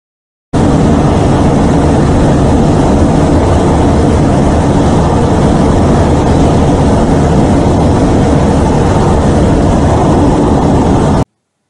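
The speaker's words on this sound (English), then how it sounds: "cockpit view of Rafale pitching up in Sekhon formation alongside light combat aircraft Tejas" A Rafale fighter jet pitches up in formation beside Tejas light combat aircraft during the Indian Air Force Day flypast over Air Force Station Hindon, heard from the cockpit. Loud, steady, dense engine and airflow roar continues unbroken, then cuts off abruptly.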